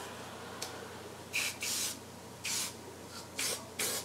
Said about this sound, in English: And then you just take your hairspray